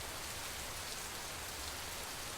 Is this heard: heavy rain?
yes